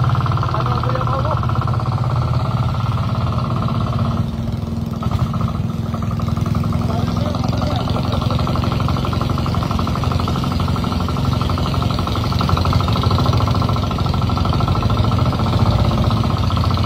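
A motorcycle engine runs steadily at idle in a flooded area, a continuous close rumbling drone with a rapid mechanical pulse throughout, persisting for the whole stretch.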